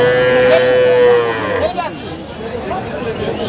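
A cow at the Aftabganj cattle market gives one loud, drawn-out moo close by, over a murmur of crowd chatter and nearby voices.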